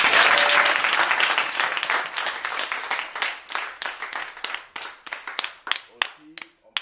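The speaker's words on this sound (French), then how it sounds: "On applaudit." Audience applause at a concert event, a dense burst of many hands clapping that thins into scattered individual claps, with a voice speaking over it.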